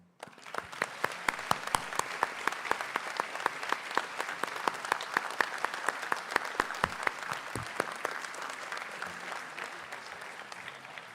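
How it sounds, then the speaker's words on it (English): Audience at an IIT Hyderabad convocation ceremony in Kandi applauding a graduate's family and professor, a sustained round of many hands clapping with sharp individual claps standing out, fairly distant and steady for about eleven seconds before fading. "I would also request family of Rahul and the professor he mentioned to raise for another round of applause."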